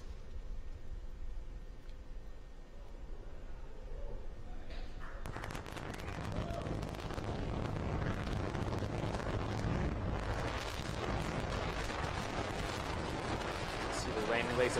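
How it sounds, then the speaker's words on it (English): A SpaceX Falcon 9 first stage fires its rocket engine for the landing burn, a sudden onset of heavy rumbling roar that builds and stays loud and steady, heard from a distance with wind buffeting the microphone. "And landing burn has hit startup"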